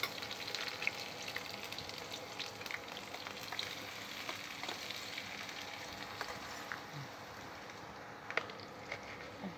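Sliced onions fry in a pan for a spiced chickpea masala, giving a faint, continuous sizzle with scattered small pops and crackles throughout.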